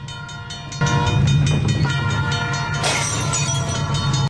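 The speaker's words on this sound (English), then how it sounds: "You told me that freight train hardly ever comes through here at 5 a.m. in the morning." In a movie scene, a freight train passes close by with a loud sustained horn blast and heavy rumbling and clattering of rail cars. A brighter screeching burst comes near the end.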